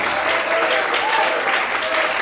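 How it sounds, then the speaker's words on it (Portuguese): Church congregation applauding during an evening service, a steady dense wash of clapping hands that holds evenly at full strength through the whole stretch. "Se você quer, aplauda ele e pode."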